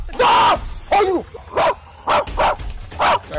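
A dog barks repeatedly and close up, six loud, sharp barks spaced roughly half a second apart in an uneven rhythm, with slight whine-like inflection on some.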